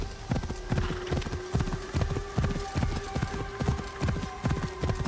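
Steady, rhythmic clip-clop of horse hooves at a trot in the Assassin's Creed Shadows video game, close and continuous, with a faint steady tone underneath and no speech.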